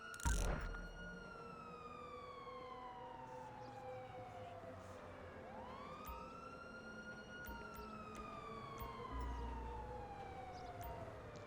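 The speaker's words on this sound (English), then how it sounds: "let me turn my siren off, because that can get pretty annoying" A police car siren from the LSPDFR video game wails steadily and fairly loud, with rising and falling tones that sweep down and then back up, plus a brief low thump near the start and another later on.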